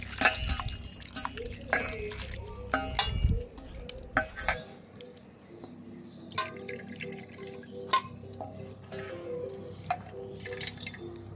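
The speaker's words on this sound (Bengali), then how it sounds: "এবার আমি এগুলোকে 2 থেকে 3 বার ভালো করে ধুয়ে পরিষ্কার করে নেব।" Grated potatoes being rinsed by hand in a bowl of water, with soft splashes, drips and sloshing stirs, close and fairly quiet, plus occasional light clinks of a container.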